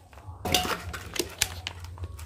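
Groundbait (thính) for carp fishing being mixed in a bowl, with a burst of clinking and scraping against the container followed by a few lighter knocks, close and moderately loud.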